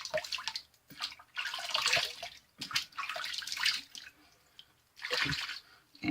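A vintage 1966 Gillette Super Speed safety razor rinsed under a running tap, steady splashing water in several bursts with brief pauses, close by and without talk.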